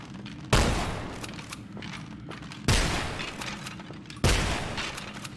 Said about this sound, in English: Well, there goes my grenade.